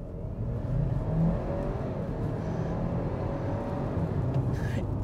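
A 2023 Ford Escape Platinum AWD pulls away under load, its engine a steady low drone with road and wind noise building inside the cabin, with no one speaking.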